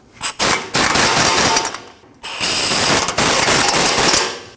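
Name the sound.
ratchet tightening brake caliper bolts on Nissan NV2500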